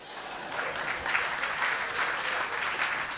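Audience clapping steadily at a community comedy show, a dense, sustained round of applause lasting throughout at even loudness with no talk over it.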